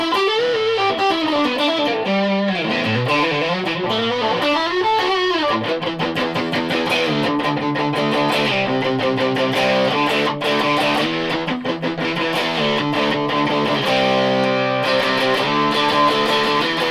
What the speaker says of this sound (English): I'll try that with the rat pedal on, which is my favourite pedal